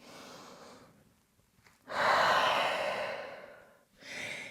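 A person breathes deeply in a yoga downward dog pose, a soft exhale and then a long, full breathy rush followed by another shorter breath, close and unaccompanied by talk.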